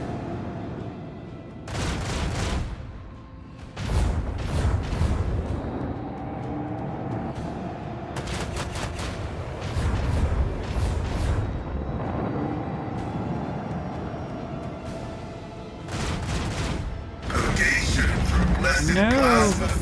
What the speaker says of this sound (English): Plasma fire.